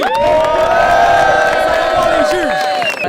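A loud crowd at a rap battle tournament cheers and shouts, with high whoops and yells rising over a dense roar of voices.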